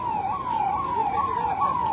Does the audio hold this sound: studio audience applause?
no